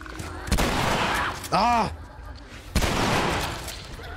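Shotgun blasts ring out in The Last of Us video game: three loud, sharp booms spaced about a second apart. A voice cries out briefly between them.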